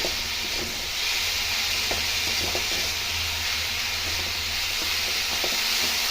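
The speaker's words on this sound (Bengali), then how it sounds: "ভালো করে নেড়ে ছেড়ে একটু রেঁধে নেব" A semolina and potato mixture cooks in a pan, making a continuous loud hiss and sizzle with faint scraping taps from stirring underneath.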